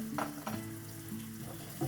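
Tomato puree is stirred into a hot sizzling pan. A soft, continuous frying hiss runs throughout, broken by a few short spoon-stirring scrapes, with no talking.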